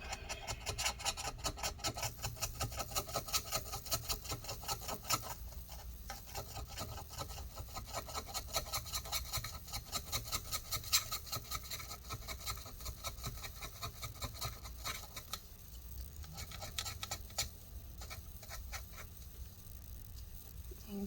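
Steady, close rasping and scraping of adhesive being worked off plastic inside a 2020 13-inch MacBook Pro A2338 during disassembly, continuing for about twenty seconds with small uneven strokes and no voices.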